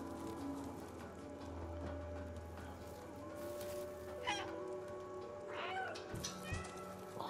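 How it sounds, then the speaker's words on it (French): Several meows from a cat in the video game Stray, mid-distance against a steady ambient game background, with a few rising cries spread across the stretch. "Oh là là, le petit miaulement."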